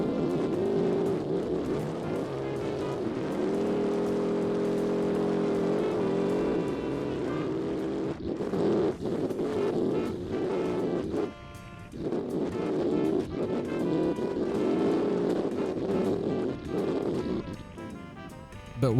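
A Mercedes car engine in a video game drones steadily as the vehicle bounces over rough terrain, a continuous loud hum with a held tone and brief dips, without talk.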